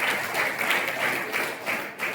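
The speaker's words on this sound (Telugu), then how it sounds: "నాతో దేవుడు మాట్లాడే వాళ్ళు చప్పట్లు కొట్టండి గట్టిగా ఒకసారి" Audience at a church youth meeting applauding, a sustained wash of clapping with faint swells, steady and moderately close throughout.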